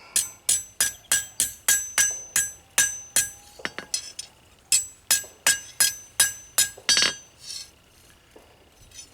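A metal spoon is hammered flat with a steady run of sharp, ringing metallic strikes, close and loud, about twenty blows with a brief pause midway before the rhythm resumes and trails off.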